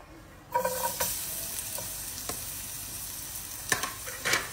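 Garlic drops into hot Minola coconut oil in a pan, setting off a sudden sizzle that continues steadily, with scraping and stirring clatters at intervals.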